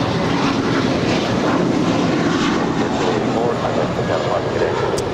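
A Hawaiian airliner takes off down the runway at LAX, its engines giving a loud, steady roar that holds evenly throughout, heard from the side of the field.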